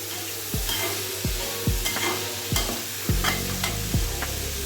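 Sprouted peas frying in a pan for raw papaya pulao, stirred with a spoon in steady scraping strokes about every second over a constant sizzle, close and clear, with no talking.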